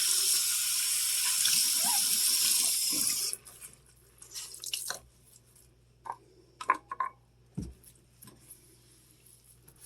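Tap water running steadily into a sink to rinse off cleaner, loud and close for a few seconds, then stopping, followed by scattered clinks and handling sounds.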